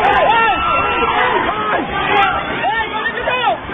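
Crowd shouting and clamoring in a loud, continuous roar as police seize a man holding a microphone during a supporters' rally for a suspended mayor in Montalban, Rizal, with overlapping raised voices and cries throughout.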